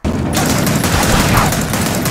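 Sustained rapid gunfire aimed at webbing in Gears of War 4, loud and dense with a continuous rattling fusillade from start to finish.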